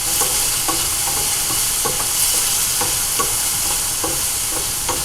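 Vegetables hiss and crackle in a hot pan while a utensil stirs them in a steady rhythm of soft scrapes roughly every half second, close and loud with no voices.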